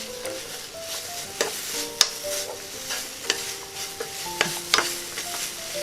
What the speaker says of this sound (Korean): 간장만 넣고 이렇게 졸였어요